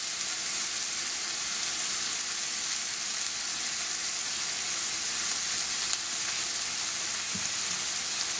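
Kimchi soup seasoned with salt and garlic salt cooking in a pot, giving a steady, dense sizzling hiss that holds evenly throughout, with no voices.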